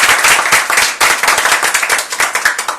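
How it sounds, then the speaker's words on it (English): An audience at a Nigerian contemporary art event applauds the artists, many hands clapping close and continuously in a dense, lively burst. "Let's give all of our participating artists a round of applause and acknowledgement."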